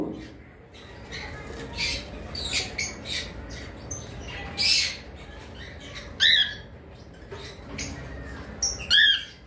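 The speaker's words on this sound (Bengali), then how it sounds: "lutino cockatiel" A lutino cockatiel that has only one eye lets out several sharp, piercing squawks at irregular intervals, close and loud, with softer chirps and rustling in between.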